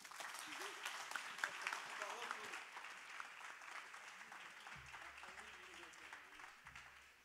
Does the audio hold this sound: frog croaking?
no